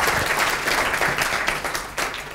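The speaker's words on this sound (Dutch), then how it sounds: "Dus alvast een applaus voor Koen voor deze presentatie." An audience at an NLUUG conference talk applauds, with dense, steady clapping from many hands that holds for a couple of seconds.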